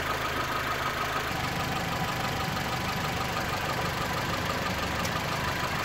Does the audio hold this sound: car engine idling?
yes